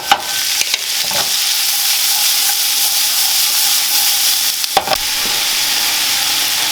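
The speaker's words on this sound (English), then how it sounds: "once you do crisp your bacon, then add your onions, and then start coloring the onions up" Bacon and onions fry loudly in a pan with a steady, dense sizzle, broken by a few sharp scrapes and clatters as they are stirred.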